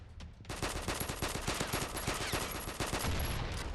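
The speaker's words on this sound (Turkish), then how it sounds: "Silah atış hissiyatları, silah sesleri biraz düşük gibi" Rapid bursts of gunfire in the mobile shooter game Combat Master, fast repeated shots in a steady automatic rhythm, loud and close with no talking.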